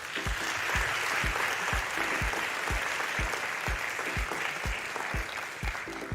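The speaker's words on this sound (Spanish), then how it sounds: "Le damos un nuevo aplauso a María Cristina." Conference audience gives sustained applause, an even, dense wash of clapping with a steady rhythmic thump underneath, loud and unbroken throughout.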